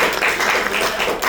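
Rotary club audience applauding indoors, a steady dense patter of many hands clapping at moderate loudness for a brief stretch.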